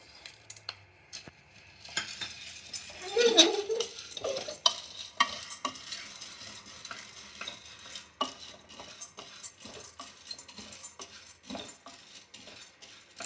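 Chickpeas are being dry-roasted in a pan for a Karnataka-style Sankranti sweet mix, with steady scraping and stirring of a spoon against the pan, clinking metal touches and a soft sizzle, close and continuous with no talk.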